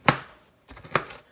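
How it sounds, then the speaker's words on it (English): A kitchen knife chops an onion on a board with two sharp, close knocks spaced about a second apart. "Just start chopping stuff."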